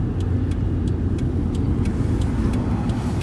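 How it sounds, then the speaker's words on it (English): A car speeds past on a nearby road, a loud steady rumble of engine and tire noise filling the short stretch with faint ticking overhead; no voices. "there's another nut driving fast."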